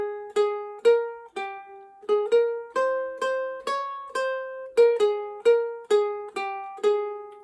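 Ukulele plucking the melody of God Save the Queen note by note at a slow, steady beginner's pace, each clear note ringing briefly before the next.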